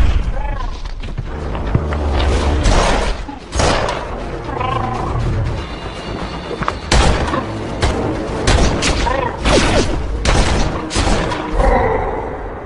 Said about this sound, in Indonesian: ketika Matthew sedang berbicara dengan Mira, suara bom terdengar dari jebakan yang sudah ia pasang.